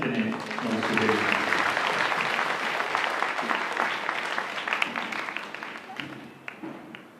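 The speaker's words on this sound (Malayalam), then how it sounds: "നമുക്കെല്ലാവർക്കും കൈയടിച്ച് അച്ഛനെ നമസ്കരിക്കുന്നു." Audience applause at a parish retreat, dense sustained clapping from a large gathering that swells early and slowly thins out over several seconds.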